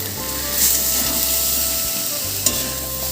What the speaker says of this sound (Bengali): এখানে একটা মাঝারি সাইজের পেঁয়াজ ভেজে নিচ্ছি বেরেস্তা তৈরির জন্য